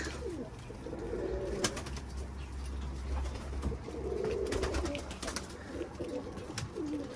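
Racing pigeons cooing in a loft, soft repeated low coos over a constant background hum, with occasional wing flutters and clicks, no voices.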